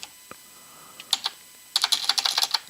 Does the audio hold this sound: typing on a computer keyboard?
yes